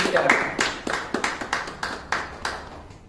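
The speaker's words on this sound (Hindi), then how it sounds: "मैं आप सभी के लिए जोरदार तालियां बजाना चाहता हूं।" An audience at a club launch event in Dubai claps in a steady, fairly sparse rhythm, with about a dozen distinct, moderately loud hand claps over roughly three seconds.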